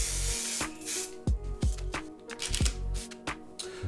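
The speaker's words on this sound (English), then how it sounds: "we're gonna spray the right one" A handheld spray bottle misting grapes for a food-styling trick, several short sharp hissing spritzes in an uneven series, close and loud with quiet gaps between.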